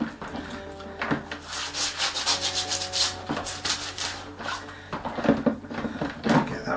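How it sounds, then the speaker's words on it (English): A rusty wood plane gets scrubbed in washing up liquid after a vinegar soak, a run of close, rough brushing strokes in an uneven rhythm with a few knocks between them. "So into the washing up liquid and just a rinse, a scrub."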